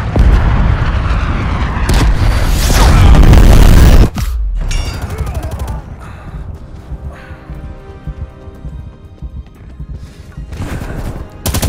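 Cruise missile strike explosions in Call of Duty: Black Ops Cold War give a long, loud, rumbling blast, then crackling debris and smaller bursts, with a final boom near the end.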